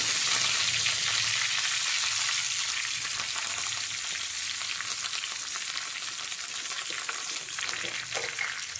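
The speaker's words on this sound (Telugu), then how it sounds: "ఆవాలు వేద్దాం వెల్లుల్లి వేద్దాం అలాగే కరివేపాకు" Mustard seeds, garlic and curry leaves frying in hot oil give a loud, steady sizzle with crackling pops throughout, heard alone without voices.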